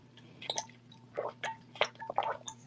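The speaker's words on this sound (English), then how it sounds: "Sorry, you have to hear me gulp." Someone gulps a drink of water in quiet, close, wet swallowing and squishing sounds, several soft gulps spaced irregularly over a low steady hum.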